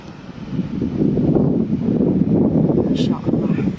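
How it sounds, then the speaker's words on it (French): Strong wind buffets the microphone on a sunny seaside coast in Algeria, a steady, loud, low rumbling roar that holds for the whole stretch with no pauses. "il y a quand même beaucoup de vent"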